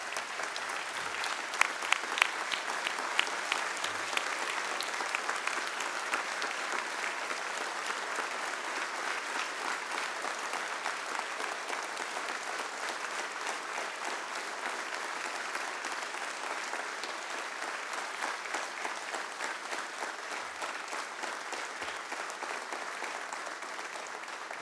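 Sustained applause fills a state legislature chamber for Louisianians serving in the military, a steady dense clapping from a large audience that carries on unbroken with no speech over it.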